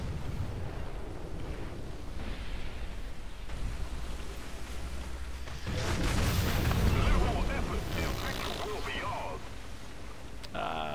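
An artillery strike in the tank game War Thunder lands near a sandbank during a realistic tank battle, with a heavy booming eruption in the second half. Voices talk over continuous engine and battle rumble.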